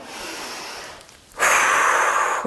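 A single slow human breath during a meditation exercise, a soft exhale fading into a short pause, then a loud, close, airy inhale held steady to the end, no talking.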